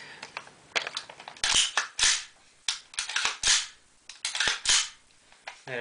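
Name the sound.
AR-15 rifle action cycling during function check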